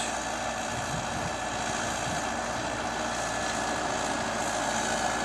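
An MTZ-82.1 tractor pulling an Odesa 3-35 plough across a field gives a steady, continuous engine drone with broadband rumble, moderately distant and unbroken, with no voices.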